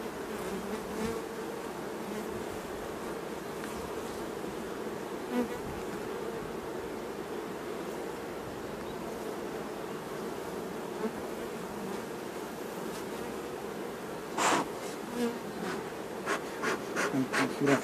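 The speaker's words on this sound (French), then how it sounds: "Je regarde, beaucoup d'abeilles sur le cadre." Honeybees crowd a hive frame during an inspection, giving a steady close buzzing hum throughout, with a few sharper rustles and taps near the end.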